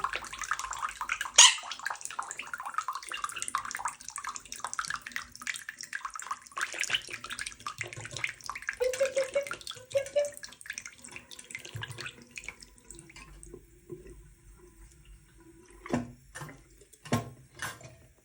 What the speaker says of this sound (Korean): 물 나온다.